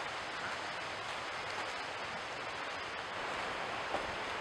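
Rushing water from the Lower Falls in Bells Canyon near Salt Lake City, Utah, heard as a constant broadband roar from a distance, steady and unbroken with no voices.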